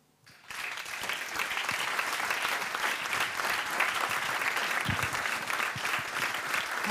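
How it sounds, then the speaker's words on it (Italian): Loud, sustained applause fills a conference hall at a charity sports event at the Frosinone Chamber of Commerce, breaking in suddenly after a near-silent instant and holding dense and even throughout. "Un applauso."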